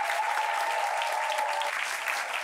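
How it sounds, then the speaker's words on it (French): Audience applause from the public at a talk on children and mother tongues, a continuous dense clapping throughout, with a held tone running underneath for most of it. "Applaudissements encore pour vous-même, chers amis du public."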